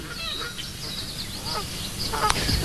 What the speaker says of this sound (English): no one took account of the magpie geese which flew in from all over the north